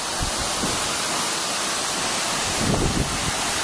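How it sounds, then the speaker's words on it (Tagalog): A dense, roaring hiss of rushing water and strong wind at Dampalit Falls fills the air continuously, loud and close, with a few low buffeting thumps. "Ang lakas ng hangin!"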